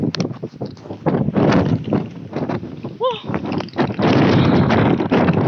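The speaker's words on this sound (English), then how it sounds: "So windy here, so I need to talk very loud." Strong wind buffets the microphone outdoors at a high, windy spot, a loud broadband rumble that gusts throughout and nearly drowns a voice speaking over it.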